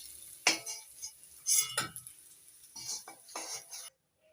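Potatoes fry in oil with salt and turmeric as a utensil stirs them, giving intermittent bursts of scraping and clinking over a soft sizzle before a sudden cut to silence.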